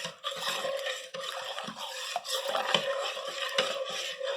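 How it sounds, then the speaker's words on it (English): A bread-dough mixture being stirred until it dissolves, heard close up as a steady rubbing, scraping swirl in an uneven rhythm with small knocks against the bowl, with no talk. "We're going to stir until we get it dissolved."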